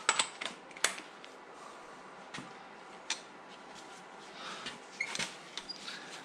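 Socket wrench loosening bolts on a Nissan VG30DE engine during a teardown: faint, scattered metallic clicks and taps, close and quiet, with short pauses between them.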